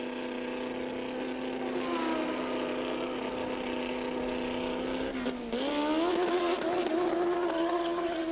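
A 1983 Formula 1 race car at the European Grand Prix holds a high steady engine whine, briefly dips around a gear change, then climbs again louder as it accelerates, with crowd and track noise beneath.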